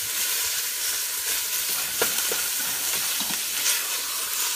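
Food browns in a pan sprayed with coconut oil over medium-high heat, a constant loud sizzle with brief scraping stirs as it is broken up.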